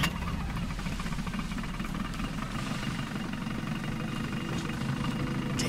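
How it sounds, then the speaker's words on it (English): A military vehicle engine in Battlefield: Bad Company 2 starts and runs at a steady, loud idle, with a constant low rumble filling the whole stretch and no talk over it. "Start the engine."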